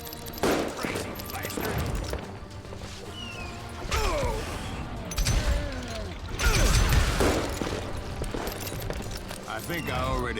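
Gunfire in Call of Juarez Gunslinger: a dense fusillade of revolver and rifle shots with mechanical clicks and creaks, loud and continuous over a busy mix of game effects.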